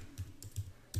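Four quick, soft keystrokes tapped close up on a computer keyboard while a web address is typed, with short gaps between the presses and no voice.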